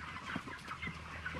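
Chickens cluck and call in short, scattered bursts on a free-range farm, moderately near with a steady outdoor background, no voices.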